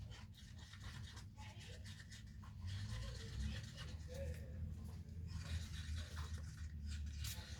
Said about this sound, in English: So I'm going to mix it first and let it sit.